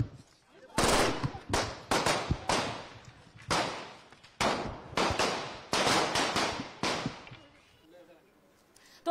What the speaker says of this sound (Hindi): आप देखिए किस तरह से ये गोलियों की जो गूंज आपको सुनाई दे रही है,